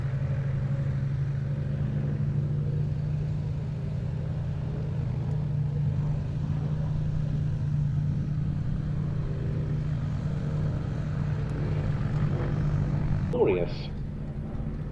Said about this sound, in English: a more powerful version of the glorious sounding Rolls-Royce Kestrel engine